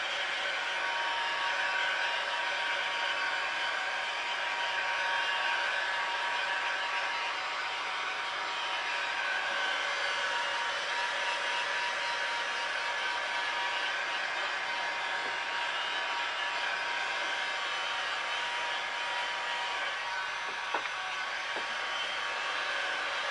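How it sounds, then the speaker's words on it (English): Heat gun blowing hot air while heat-forming craft foam for a helmet, a steady, even whooshing hiss with a faint motor whine that runs without a break, fairly quiet, with a couple of small clicks near the end. "So I'll go ahead and heat form and apply some heat so I can get my curvatures on my foam rounded off."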